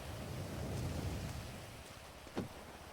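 Soft, steady video game rain hiss falling indoors, with a low rumble underneath and a brief sharp knock near the end, faint and without voices.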